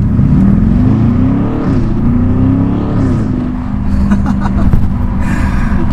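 BMW X6 M50i engine revving hard with its exhaust roaring, a loud continuous low drone that rises and falls in pitch, with crackles and pops near the end as the throttle comes back.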